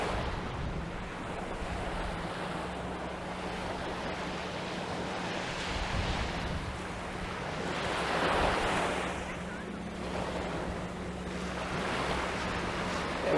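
Ocean waves wash onto the beach at a Cancun resort, a steady surf roar with gentle swells rising and falling, mixed with wind buffeting the microphone and no voices.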